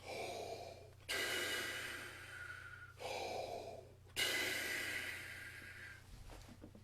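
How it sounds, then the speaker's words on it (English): Deep, slow breaths drawn straight in and pushed out during a brass players' breathing exercise, about four airy breaths alternating with short pauses, close and soft. "we've done some deep breathing, just straight in and out"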